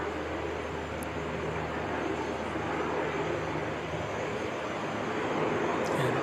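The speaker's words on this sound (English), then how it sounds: "Looks like our little private jet's starting up again" A small private jet spools up at Christchurch airport in New Zealand, giving a steady, broad engine roar with a low hum beneath it. The sound holds constant across the clip and comes from a moderate distance.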